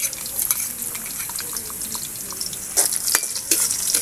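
Chopped onion hitting very hot oil in a pan, along with ginger and garlic for a home-style crab dish, giving a bright steady sizzle with scraping stirs and a few louder crackling bursts near the end.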